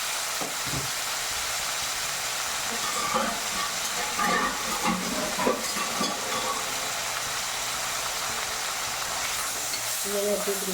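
Sliced snake gourd sautéed in hot oil for a Malayalam-style padavalanga thoran, a steady hiss and sizzle with occasional stirring scrapes, faint background voices drifting in and out.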